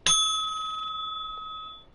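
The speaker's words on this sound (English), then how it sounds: "do not forget to smack the notification bell" A notification bell sound effect rings once with a bright, clear metallic ding that hangs and slowly fades over about two seconds, loud and alone.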